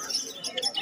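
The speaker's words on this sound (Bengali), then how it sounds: "দেখে নাও জাম্বো ফিঞ্চ" Jumbo finches at a pet market give soft, high chirps and tweets in quick scattered bursts, faint and slightly distant, with market voices murmuring in the background.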